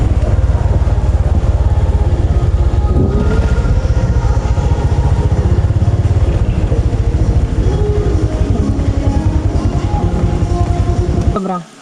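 A motorcycle ridden by a woman traveling solo near a cave in Vietnam, its engine droning loud and steady for the whole stretch, with faint background sounds, cutting off abruptly at the end.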